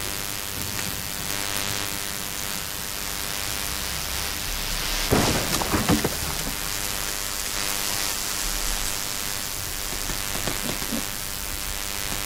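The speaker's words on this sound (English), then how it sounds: "Oh, rain." Steady rain in the video game The Forest hisses throughout while a thunder rumble swells midway and fades into the downpour.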